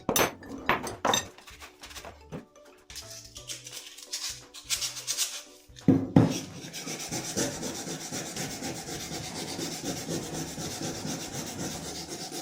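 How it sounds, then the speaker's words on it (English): Emery cloth rubbed by hand on the metal wrist pin end of a Fuller & Johnson pump engine part, giving quiet irregular scuffs and then a steady, close scrubbing rasp without speech. "So just going to give the wrist pin end here a quick clean with some emery cloth"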